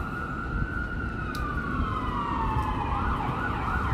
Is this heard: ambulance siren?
yes